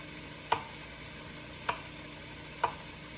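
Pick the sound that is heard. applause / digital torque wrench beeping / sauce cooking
sauce cooking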